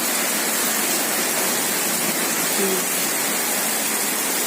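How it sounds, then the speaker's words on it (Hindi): Heavy rain pours in a steady, dense roar, loud and unbroken with no other distinct sounds on top. "बारिश का मौसम जैसे अभी आएगी, और अब तो आ ही गई। कितनी तेज़ आई हुई है"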